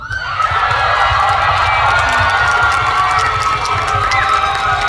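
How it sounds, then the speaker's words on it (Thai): A crowd of young fans at a Thai event cheers together in unison, a loud sustained roar of shouting and shrieking voices that fills the space for several seconds. "ผมขอเสียงกองเชียร์ของน้องๆทุกคนพร้อมกันหนึ่งทีได้ไหมครับ"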